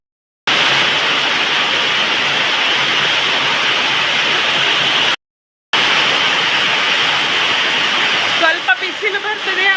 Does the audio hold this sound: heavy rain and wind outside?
yes